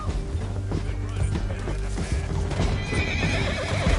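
Horses neigh and whinny over pounding hoofbeats as they gallop in Red Dead Redemption 2, a busy, loud mix of clip-clop and squeals with game-style ambience.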